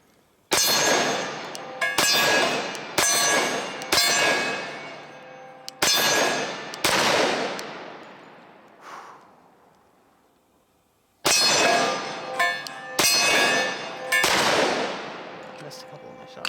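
Glock 29 10mm pistol firing at steel targets outdoors: a dozen loud, sharp shots in two strings, each followed by a ringing metallic clang and decaying echo, with a pause between strings.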